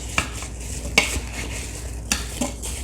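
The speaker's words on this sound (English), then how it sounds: "I'm going to grab a spatula and give it a quick stir" A spatula stirring an apple butter mixture of apples and brown sugar in an Instant Pot, a few soft scrapes and sharp clinks against the metal pot over a light background hiss, no talking.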